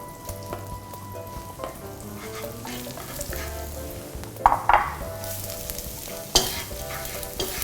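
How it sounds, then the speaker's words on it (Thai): Onion sizzles steadily in a hot pan while a utensil stirs and scrapes, with a few sharper clinks against the metal. "โอเคเมื่อกระทะร้อนปุ๊บเราก็จะใส่หอมหัวใหญ่เข้าไปนะครับ"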